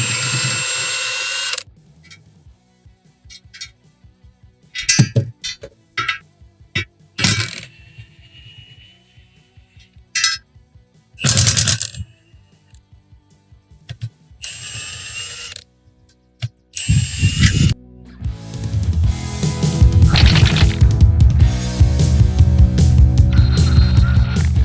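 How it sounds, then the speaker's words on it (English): A power impact wrench zips off the bolts of a wheel beadlock ring in loud, close bursts separated by pauses, with metallic rattling and clanking of the parts between runs, ending in a longer stretch of clattering. "I'm going to zip them off with the impact"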